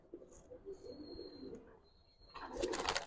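Giribaz pigeons at a seller's loft in Old Dhaka give soft, close coos, with faint background chatter and a thin whistle-like tone, ending in a brief burst of louder rustling or wing noise.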